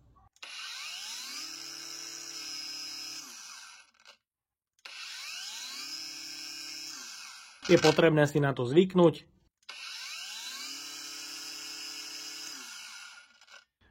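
Three long bursts of a high, whining Parkside Performance 20 V cordless angle grinder spinning up and braking down, separated by short pauses, with a brief burst of speech between the second and third.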